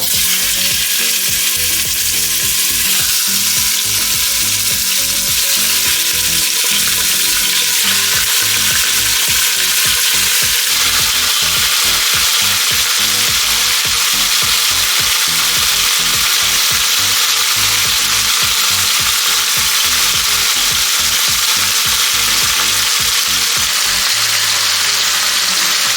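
Pork searing in a hot pot with about two tablespoons of oil for chile verde, a loud continuous sizzle and fry with rhythmic scraping and stirring strokes throughout, close up and without talk.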